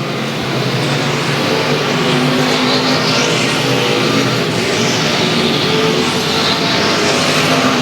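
Race cars on a circuit sweep past in a steady loud roar of engines, with rising and falling passes overlapping and no talk over them.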